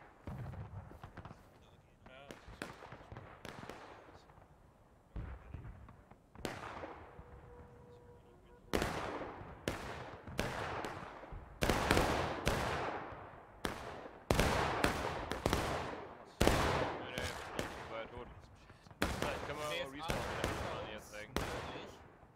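Gunfire and blasts crackle through a multiplayer war video game: dense, irregular shots and bangs, some close and sharp, others more distant, keep going throughout while voices talk faintly underneath.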